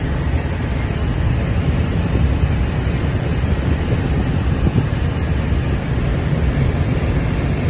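A Grumman AA-5 style light plane, the 233, cruising at 2,200 feet near Vero Beach Airport, heard from inside the cockpit as a loud, steady engine and airflow drone with no talk.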